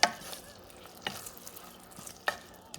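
Scallops and shrimp stirred in a hot pan give a faint steady sizzle, punctuated by three sharp utensil scrapes and clinks at irregular intervals.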